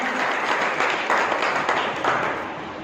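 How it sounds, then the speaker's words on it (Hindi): An audience at a school retirement ceremony breaks into loud, dense applause, a continuous wash of clapping held evenly at close range before easing off slightly at the end. "मैं चाहूंगा भाई जी के लिए एक बार पुनः जोरदार तालियां"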